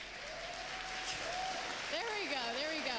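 An audience at the Gamescom 2019 live awards conference applauds the winners, a steady wash of clapping heard throughout beneath talking and faint music.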